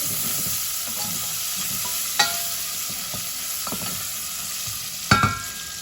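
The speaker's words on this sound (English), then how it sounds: "about a teaspoon worth of ginger paste in there. Just going to mix that around." Ginger paste stirred and frying in a pan, a steady soft sizzle with occasional sharper scrapes and clinks of a utensil, close and without talk.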